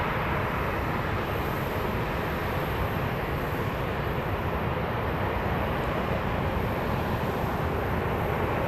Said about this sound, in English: On short final now, JSX coming in from Provo, Utah, in Embraer 145.